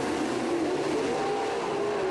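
Dirt track race cars at speed in a close battle for the lead, a steady broadband engine roar from the pack holding constant throughout with no clear pass-by swells.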